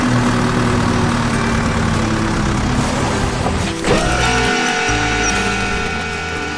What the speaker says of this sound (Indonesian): Batu-batu besar hancur berkeping-keping menjadi tumpukan puing.